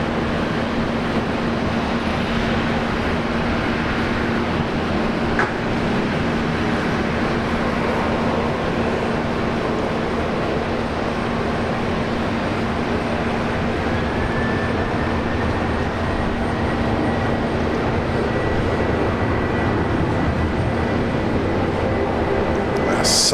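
A Velocity airliner taking off from runway 19 left at Brisbane Airport, heard from a plane spotting spot as a steady, loud jet roar with a slowly rising whine, held constant throughout.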